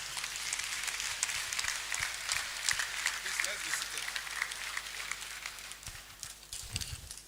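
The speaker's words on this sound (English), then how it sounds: "Please, a round of applause" Audience applause fills a university hall during the annual registry discourse as the vice-chancellor takes the podium, a dense steady clatter of many hands lasting throughout, with a voice speaking over it.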